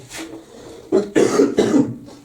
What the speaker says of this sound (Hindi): अरे खांसी